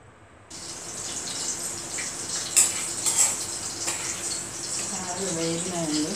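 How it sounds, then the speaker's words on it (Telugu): Bitter gourds frying and being turned in a pan, a soft steady sizzle broken by a few metallic clinks and scrapes of a utensil, with a voice talking over the cooking. "కాకరకాయలు మధ్య మధ్యలో తిప్పుతూ ఉండండి"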